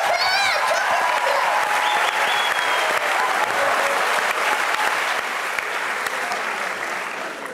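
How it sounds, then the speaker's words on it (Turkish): Audience applause fills a TV talent show studio, Yetenek Sizsiniz Türkiye. Dense, loud clapping with some crowd noise holds steady for several seconds and eases slightly near the end. "Alkışlarla uğurluyoruz"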